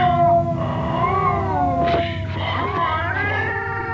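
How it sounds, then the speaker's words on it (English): A cat yowls in the 1992 British TV film Ghostwatch, a long wavering caterwaul of rising and falling tones that fills the whole stretch, loud and close, with a low rumble underneath. "Cats."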